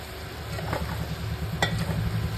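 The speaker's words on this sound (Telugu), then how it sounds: "సో ఇప్పుడు బాగా కలుపుతూ ఫ్రై చేసుకోవాలి" Chicken frying in a pan with home-made garam masala, a soft steady sizzle under light scraping as it is stirred, fairly quiet and close.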